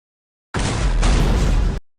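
A grenade blast erupts in an action-film escape from an air duct, a sudden loud, close boom that holds as a roaring rumble for over a second before cutting off into silence.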